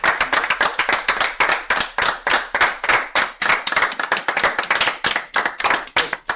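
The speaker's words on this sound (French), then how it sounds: "on applaudit" A small group of people claps in a steady, fast, close rhythm of sharp hand slaps that continues evenly with no talking over it.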